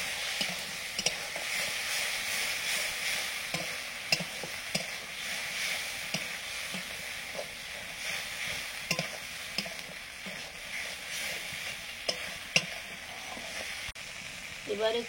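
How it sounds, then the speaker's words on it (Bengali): Tomato with ground ginger, cumin and coriander paste fries in a pan, a steady soft sizzle broken by the scrape and tap of a spoon stirring, with no voices. "টমেটোটা ভাজতে ভাজতে আমি বাটা মশলাগুলো দিয়ে দিচ্ছি, একটু আদা বাটা আর ওই জিরে আর ধনে বাটা"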